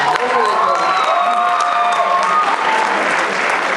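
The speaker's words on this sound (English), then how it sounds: "Let's give Yorsalem a round of applause one more time." Audience at a high school awards ceremony applauding loudly, dense continuous clapping with some cheers and a whoop mixed in, filling the room from start to finish.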